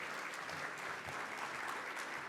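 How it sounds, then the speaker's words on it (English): Room audience at a televised fundraising program gives a round of applause for viewers at home, steady dense clapping heard at a moderate distance without pause. "let's give our at-home people a nice round of applause"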